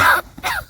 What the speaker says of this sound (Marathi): खोकला झाला रे तुला